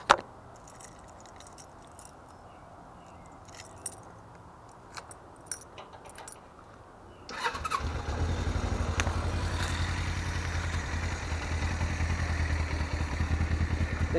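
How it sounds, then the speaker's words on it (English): Keys jingle and small clicks sound in a quiet space before a 2006 Suzuki GS500F with its stock exhaust starts about halfway through, then idles at a steady, loud, continuous rumble. "let me start the bike for you"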